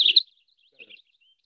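A Cassin's finch sings a short, quick phrase mimicking an American robin, with a bright chirpy burst at the start and softer, fainter notes trailing after a brief gap.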